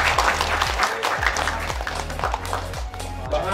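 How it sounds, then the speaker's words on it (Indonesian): Audience applause at a community seminar on preventing social conflict, a dense broadband patter of clapping filling the whole stretch, steady and fairly close, with a rhythmic low thumping beat underneath. "Tepuk tangan lu dong untuk kita semua"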